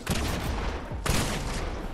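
Rapid automatic gunfire in a competitive console shooter game rattles in two dense, loud bursts with no talk over it.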